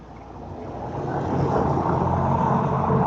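A truck engine rumbles steadily in the background, a low continuous drone that swells slightly louder and holds, with no talk over it.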